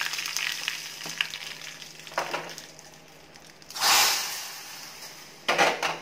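Cumin, curry leaves and asafoetida sizzling in hot oil in a pan, a steady frying hiss broken by several bright crackling bursts, the loudest near the middle and again at the end, with no talk.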